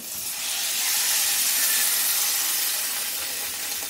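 Water poured into a hot pan of tomato rice with spices gives a loud, steady steamy hiss and sizzle that swells and holds for several seconds, with no voices.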